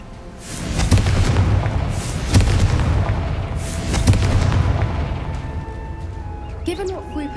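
In Hogwarts Legacy, the Confringo spell sets off a series of heavy booming blasts, about three big hits a second or so apart over a rumbling bed, with a fiery crackle fading out at the end.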